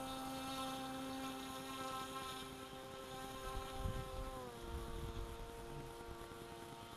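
A small boogie-board-style boat's motor runs steadily at half throttle, a droning engine tone with a slight pitch drop partway through over water noise, no talk.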